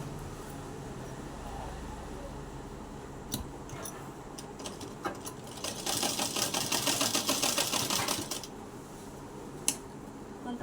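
Sewing machine stitching satin lining onto a net skirt, a steady rapid run of needle clatter for about two seconds mid-clip, with scattered handling clicks before and after.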